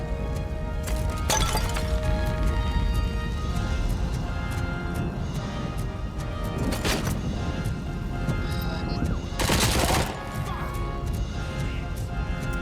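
Gunfire in the Robocop: Rogue City game demo rattles loudly and almost without pause, with heavy bursts, shattering glass and crashing debris layered over a dense, roaring action mix.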